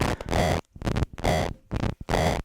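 Bursts of harsh, buzzy synthesizer tone from a complex oscillator through a TipTop Audio Fold Processor wave folder, with rich folded overtones, stopping and starting in short chopped phrases separated by brief silences.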